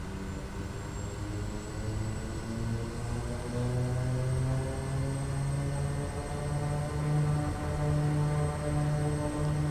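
A Kodiak 100 turboprop engine throttles up for takeoff with a loud, close, steady roar. The propeller drone climbs slowly in pitch and gains power over about ten seconds, with no voices.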